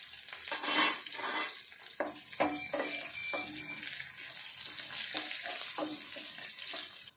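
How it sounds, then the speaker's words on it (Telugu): Continuous sizzling of garlic and chillies frying in hot oil for bitter gourd pickle, with occasional stirring scrapes and a brief brighter burst early on. "ఎల్లుల్లి మంచిగా గోల్డ్ కలర్ వచ్చేదాకా మంచిగా తాలింపులను అయితే వేగాలి"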